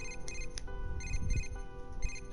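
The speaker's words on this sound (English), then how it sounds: "A familiar ringtone sounds from my cell phone inside my bag." A cell phone ringtone from inside a bag in the video game Persona 4 Dancing All Night, a repeating electronic melody of bright chiming notes over a low background hum.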